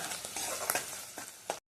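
Chopped onions and green chillies frying and being stirred in a pan for a fish gravy curry, a steady close sizzle with a few scraping stirs.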